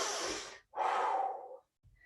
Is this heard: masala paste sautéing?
no